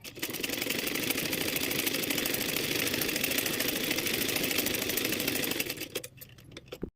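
A sewing machine stitches a blouse belt up close in a continuous, rapid mechanical whir that holds steady for about six seconds, then slows and stops.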